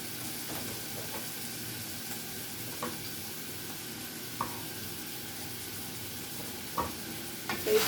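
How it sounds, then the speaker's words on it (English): Onions sweat in a pan with a low, steady sizzle while a utensil stirs them in occasional light scrapes and clicks. The stirring grows a little busier toward the end. "okay, stir that up a little bit."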